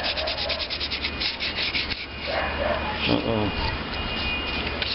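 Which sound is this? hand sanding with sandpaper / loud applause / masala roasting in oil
hand sanding with sandpaper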